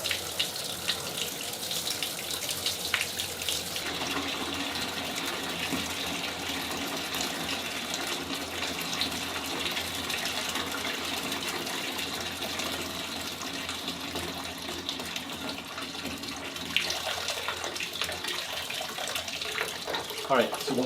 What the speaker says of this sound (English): we're going to turn on the biggest faucet, which is the tub